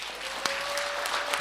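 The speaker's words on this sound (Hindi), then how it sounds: "एक बार हाथ खड़ा करके ताली बजा के बता दीजिए।" An audience at a talk claps together in a steady, dense patter of many hands, with a few sharper claps standing out, moderately loud and without speech.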